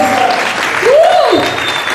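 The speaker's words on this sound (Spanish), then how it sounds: "Un aplauso nuevamente para el Señor." A church congregation applauds during a Sunday service. The clapping is loud and close, and a voice rises in a short swooping call partway through.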